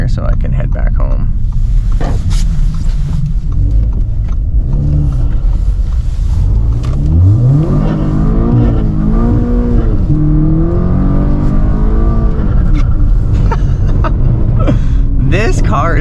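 A tuned 420-horsepower Audi S3 8V drives through a snow storm, its engine rumbling and rising in pitch as it accelerates steadily, heard from inside the cabin under someone talking.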